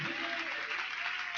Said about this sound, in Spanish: Denle un aplauso fuerte a Jesucristo que está aquí en esta noche